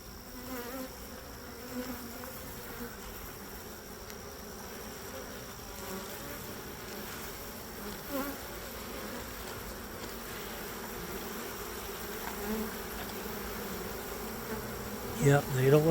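Honey bees in a beehive buzz steadily and closely while being scooped into a cup for a mite check, a continuous droning hum with faint handling noises.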